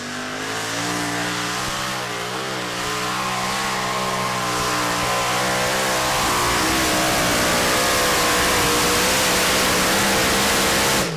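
Modified tractor engine in the 2.5-tonne class roaring during a tractor pulling competition in Bouconville, 2014, a loud sustained near howl with rising pitch as it revs down the track.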